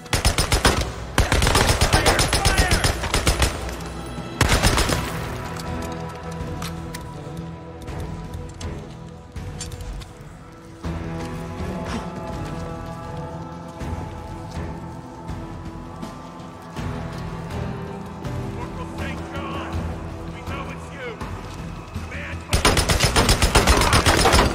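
Sustained automatic gunfire in the video game Days Gone, loud and dense bursts of rapid shots running almost continuously, with heavier volleys at the start and end and a shouted voice briefly over the din.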